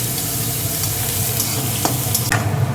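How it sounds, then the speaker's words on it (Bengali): Chopped onions, crushed garlic and curry leaves frying in a pan over lowered heat, a steady close sizzle with a few stirring scrapes and no voices. "এবার এগুলো একটু ভাজা ভাজা হবে"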